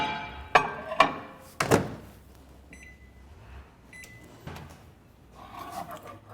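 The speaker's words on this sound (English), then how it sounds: "And you put it in the microwave." A few sharp thunks and a door clunk as a microwave is loaded and shut, followed by a couple of short beeps and quiet handling.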